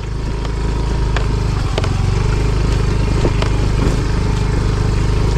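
A motorcycle engine runs steadily while riding along a road, a loud, continuous low rumble with a droning hum and occasional rattles, close up and without talk.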